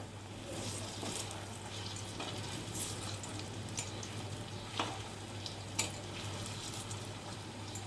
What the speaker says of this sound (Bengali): আমি এইভাবে সমস্ত বড়াগুলোকে আস্তে আস্তে করে ভেজে নেব